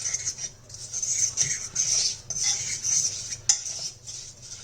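A spoon scrapes and clinks against a pot while biryani ingredients for a quick chicken biryani are mixed, with repeated close metallic strokes in an uneven rhythm.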